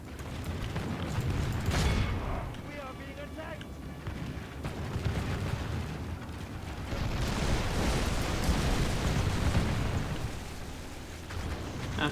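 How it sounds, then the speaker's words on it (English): Artillery barrage in a Warhammer strategy battle game, dense overlapping booms and rumbling blasts forming a continuous loud wall of battle noise, swelling in waves without let-up. "Barrage fire is always nice to have."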